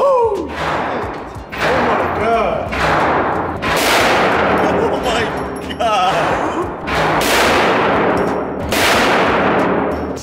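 Repeated heavy gunshots at a shooting range, roughly every second or two, each loud close blast ringing with a metallic clang and echoing tail, voices occasionally heard between shots.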